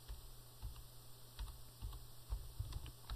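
Keys on a computer keyboard are tapped in short uneven bursts while a date is entered, soft close clicks over a quiet steady hum.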